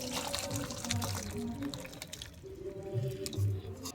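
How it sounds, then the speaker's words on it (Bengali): Fish curry made with cauliflower is poured from a pan into a bowl, giving soft wet pouring and dripping sounds with low sloshing splashes, close and moderately quiet, with no talk. "এবার আমি মাছের ঝোলটা একটা পাত্রের মধ্যে নামিয়ে নেব।"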